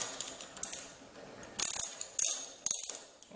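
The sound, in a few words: tightening Ninja 300 shorty brake lever with a ratchet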